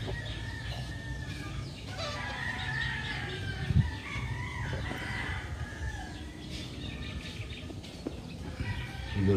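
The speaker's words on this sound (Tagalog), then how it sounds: "Malapit to sa mga tandang." Chickens cluck steadily nearby, with a rooster's crow rising among them, a continuous farmyard chatter over a low rumble.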